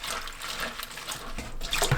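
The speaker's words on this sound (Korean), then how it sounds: "건가지를 씻어주세요." Dried eggplant being washed in water, with a steady splashing and trickling wash sound close by and no voices.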